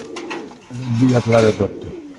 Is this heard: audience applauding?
no